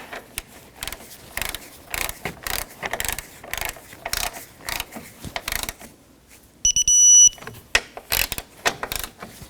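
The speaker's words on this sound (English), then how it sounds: "Just snug them up, and then we'll torque them to factory spec." A ratchet snugs the upper strut mount nuts on a 2011-2018 Volvo S60, rapid runs of close clicking bursts repeating steadily, broken by a short pause and a brief electronic tone near the end.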